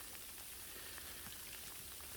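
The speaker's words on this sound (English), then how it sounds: "Freezing rain." Freezing rain falls steadily in a swampy backwoods area, a dense, even patter of drops across the whole clip with no voices.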